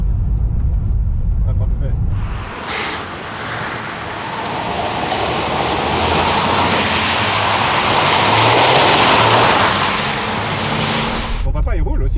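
Car driving on an icy road, a steady broad rumble and road noise from inside the vehicle lasting most of the stretch, with a child's and adult's voices talking briefly at the start and end.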